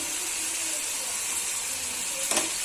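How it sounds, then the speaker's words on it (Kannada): Potatoes and green chillies fry in a pan with salt for potato rice, a steady close sizzle and hiss with a brief scrape of stirring near the end. "ಚೆನ್ನಾಗಿ ಫ್ರೈ ಮಾಡಿ"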